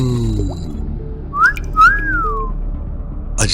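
A man blows a whistle as a sound effect in a Hindi audio drama: two rising-and-falling whistle tones in quick succession, clear and fairly loud over a quiet background.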